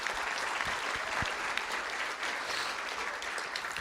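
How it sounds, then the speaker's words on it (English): A school board meeting audience applauds students who qualified for a state event, a dense, steady roar of many clapping hands filling the room without a break. "Let's give them a round of applause."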